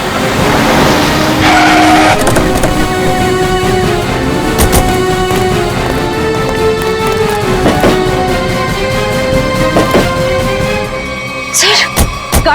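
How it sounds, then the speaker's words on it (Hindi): Two cars pull away in different directions, engines revving loud and close over a busy mix of tonal music and scene noise, with sharp bangs and a squeal-like burst near the end; no one speaks. "अरे ये दोनों गाड़ियां अलग अलग रास्ते पे चली गई।"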